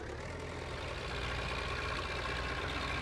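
A tractor engine idles in a farming video game set in old Italy, a steady low rumble with a faint knocking texture, continuous and unbroken with no talk.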